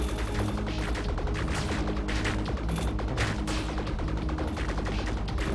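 Bullets firing in the flash video game Viricide make a dense, continuous barrage of rapid shots. The loud stream of gunfire runs steadily from start to end with no talk over it.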